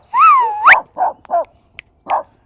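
A dog greets people outdoors with a long rising whine followed by several short, sharp barks in quick succession, loud and close.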